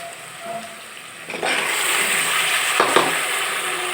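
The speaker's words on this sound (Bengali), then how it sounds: "এখন আমি মাংসটাকে দিয়ে 1 মিনিট ভেজে নেব" Beef goes into hot oil with onions for a red beef bhuna. A soft sizzle jumps louder as the meat hits the pan, then continues steadily with a brief stirring clatter.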